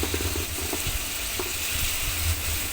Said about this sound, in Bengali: এটা ভালো করে একটু তেলে ভেজে নিয়ে